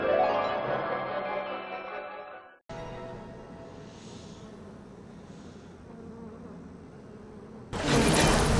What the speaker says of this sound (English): Unleash insects against groups of enemies.